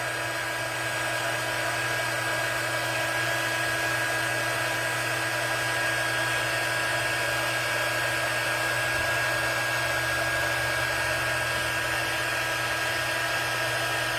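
A heat gun blows continuously while heat embossing stars on paper for a card craft, a steady loud fan-and-heater drone with a constant electric hum, unbroken throughout.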